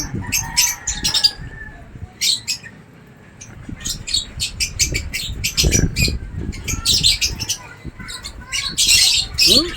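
A bird squawks repeatedly in loud, harsh calls as its wings flap in flight nearby, with chirps scattered throughout and short gaps between bursts.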